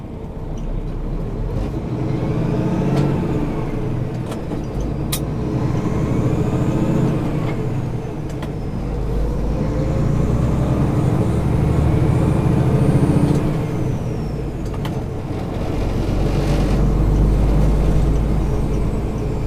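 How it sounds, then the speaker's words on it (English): A semi truck's diesel engine pulls up through the gears while skip shifting from second to fourth to sixth, a loud steady drone that rises in repeated swells, with brief dips and faint hiss between shifts. "I was skip shifting all the way up. Started in 2nd, then went to 4th, and then to 6th"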